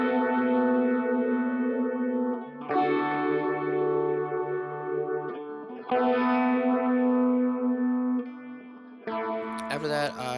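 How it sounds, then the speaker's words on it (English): Sustained chords for an atmospheric dream pop track play through a pitch shifter plugin raised an octave. The tone is washy and echo-laden, with chord changes every few seconds and a brief glitchy burst at the end. No one speaks. "I put on a pitch shifter plugin, or if you have a pedal, you can use that too."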